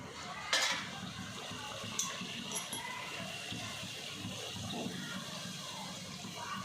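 Bhatura deep frying in hot oil: a steady, fairly loud hiss and bubbling fills the clip, with a couple of sharp clinks near the start and a voice talking faintly underneath.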